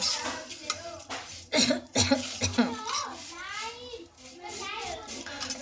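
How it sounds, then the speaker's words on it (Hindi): Several harsh coughs in a row, close and loud, mixed with throaty sounds and a voice talking in the background. "सॉरी खांसी हो रही है, धसका लग रहा है"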